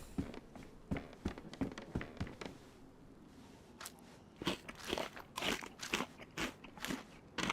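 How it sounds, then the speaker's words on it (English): In the video game DayZ, a character eats uncooked rice, giving a run of loud, close crunching bites in irregular clusters with a short quiet gap midway. "Crunchy rice. Not sure how to eat it uncooked"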